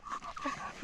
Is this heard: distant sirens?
no